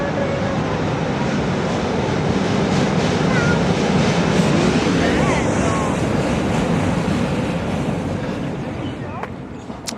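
A train rumbles past alongside a river near a bridge on a hot day, a continuous broad roar with wind buffeting, loud and steady throughout.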